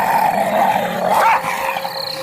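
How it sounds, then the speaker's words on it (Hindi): A menacing dog growl used as a horror-story effect, a sustained low snarl rising in intensity near the middle, then settling into rough, throaty rumbling, close and alone. "वह उसे देखकर गुर्राने लगता है।"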